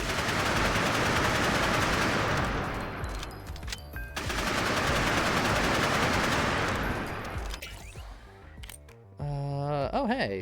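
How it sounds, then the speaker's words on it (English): Rocket machine gun in a fast video game fires loud, dense sustained bursts, with a short pause before a second long volley, then mechanical clatter and a brief tonal whir at the end. "My rocket machine gun."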